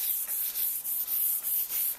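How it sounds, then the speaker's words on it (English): Light scuff-pad sanding on the chrome grill surround of a Toyota Tundra, a soft hissing rub in steady back-and-forth strokes, about eight passes with brief gaps, close and fairly quiet with no talk. "now that I've gone over it with that real light sanding, you can hear it's very smooth now"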